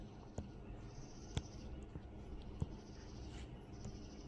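A pen writing on paper, faint scratchy strokes with a few sharp taps, quiet and close, in an otherwise hushed room.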